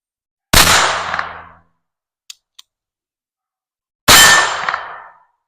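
A .25 ACP Colt Junior pocket pistol fires twice at a steel target, each loud crack followed by a ringing metallic clang that decays over about a second, with two small faint clicks in the quiet gap between shots.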